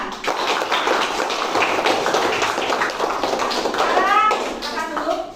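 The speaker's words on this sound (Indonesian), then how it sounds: "Tepuk tangan." A classroom group claps together, a dense patter of hands over several seconds with children's voices and chatter mixed in.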